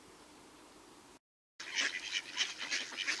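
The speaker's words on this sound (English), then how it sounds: "Ducks." Ducks quacking outdoors in a rapid, overlapping run of honking calls that starts abruptly after a brief gap of silence and continues loud and near.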